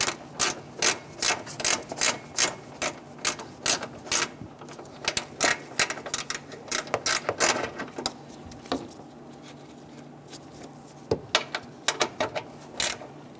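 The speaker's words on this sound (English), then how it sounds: "And tighten them down." Ratchet tightening the sway bar bushing bracket bolts on a 2012-2017 Toyota Camry: rapid, crisp clicking bursts in a steady rhythm with brief pauses, close up and without speech.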